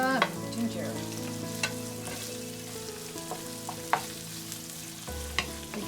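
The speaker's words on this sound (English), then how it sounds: "now we're gonna add the onions. And the ginger." Onions and ginger sizzle steadily in a hot pan for fermented fish and rice, a continuous loud frying hiss with occasional sharp clicks and scrapes of stirring, close and without talk.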